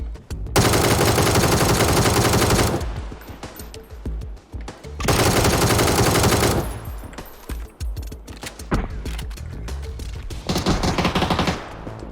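Machine gun fire from a shooting video game: long, loud sustained bursts, broken by short gaps and scattered single shots, then another heavy burst near the end.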